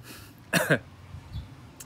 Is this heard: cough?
yes